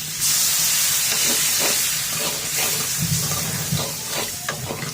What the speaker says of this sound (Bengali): বাটিটা দিয়ে দিব একটু পানি।